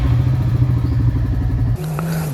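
Motorcycle riding along a city road in Bhopal, its engine droning loudly and steadily near the microphone, the tone shifting briefly near the end.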